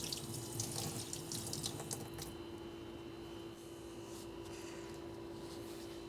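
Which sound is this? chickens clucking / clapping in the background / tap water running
tap water running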